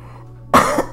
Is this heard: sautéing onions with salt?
no